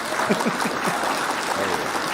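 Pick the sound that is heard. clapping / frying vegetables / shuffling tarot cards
clapping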